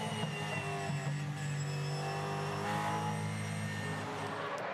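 Supercars race at Townsville, a sustained, fairly loud engine roar with a wavering high whine, heard alone without talk across nearly five seconds.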